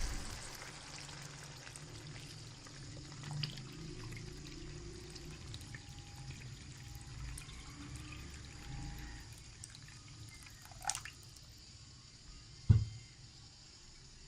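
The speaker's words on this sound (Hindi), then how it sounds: "अब हम इसमें पानी ऐड करते हैं" Water is poured from a glass into a cooking pot of spiced masala for matar pulao, a steady close trickle and splash running throughout, with a couple of brief clanks near the end.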